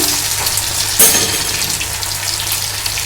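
Three lentil cakes (dhoka) frying in hot oil: a steady, loud, hissing sizzle fills the whole stretch, with a brief burst of crackle as the cakes go in near the one-second mark.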